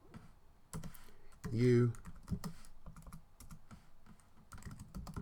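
Keystrokes tapped out while a line of program code is typed on a computer keyboard, scattered clicks in short runs, with a brief spoken word near the start.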